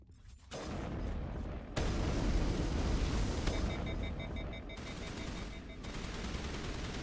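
Rapid gunfire bursts crackle and boom through a Mass Effect firefight, sustained shooting from the video game with sharp electronic tones layered over the barrage.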